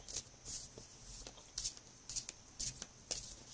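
Tarot or oracle cards are shuffled for a spiritual card reading, giving soft, quick riffling bursts that come in short irregular clusters, close and fairly quiet, with no talking.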